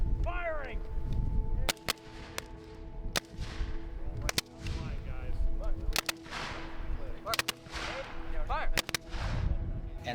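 Civil War reenactors of the 3rd Maine firing muskets at a historic Maine site: a series of sharp, loud cracks at irregular intervals, some in quick pairs, with shouted commands and voices between the shots.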